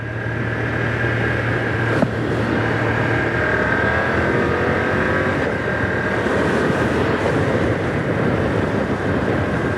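A 2025 BMW F900R motorcycle cruising along a dual carriageway, recorded as steady loud engine drone and heavy wind rush. A brief tonal change near the start may be a quick-shifter gear change, with no talk over the constant noise.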